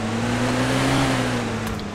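A car in the video game DayZ drives off, its engine a steady droning hum with tonal layers throughout, loud and close at first and holding level without speech.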